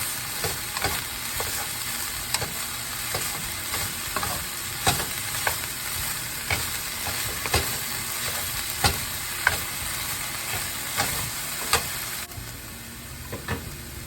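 Cabbage cooks down with meat in a pan, a steady sizzle broken by regular sharp scrapes and clacks of stirring, close and fairly loud, with no talk.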